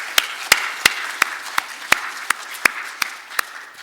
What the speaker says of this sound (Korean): 우리 다시 한번 격려의 박수 올려드리겠습니다